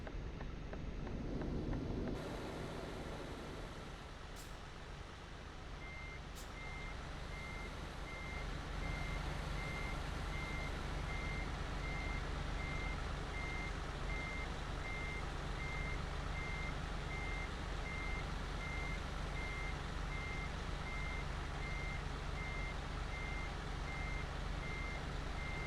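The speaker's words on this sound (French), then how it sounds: "Avec un camion noir Scania." A black Scania truck idles at a convoy gathering, its steady low engine rumble continuous throughout, with a repeating reversing beep running from about six seconds on and wind buffeting the microphone.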